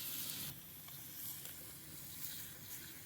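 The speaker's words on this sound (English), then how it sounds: "He's cooking up some of that beef bacon that we bought at Six Sigma Ranch." Beef bacon sizzles in a pan during breakfast cooking at a vintage trailer campsite, a steady, soft frying hiss with faint crackles and no talk.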